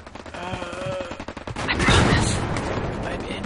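Heavy gunfire rakes the player in Hell Let Loose, a burst of rapid shots after short sharp cracks, with voices talking over it.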